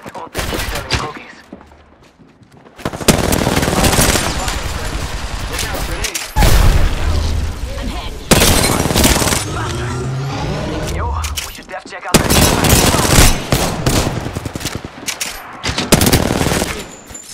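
Loud automatic gunfire in an Apex Legends match, with long rattling bursts broken by brief pauses and sharp impacts in between, close and continuous for most of the stretch.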